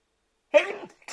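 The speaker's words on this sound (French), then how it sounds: "Je vais éternuer." A single sharp sneeze after a moment of silence, close to the listener, followed by a brief breathy sound.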